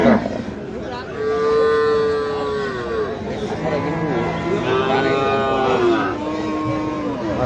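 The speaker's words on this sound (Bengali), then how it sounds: "মাশাআল্লাহ এটা বর্তমানে সবচেয়ে সুন্দর একটি শাহিওয়াল" A Sahiwal cow at the Hazratpur cattle market lets out long, drawn-out moos, close and loud, over a busy market murmur with people talking in the background.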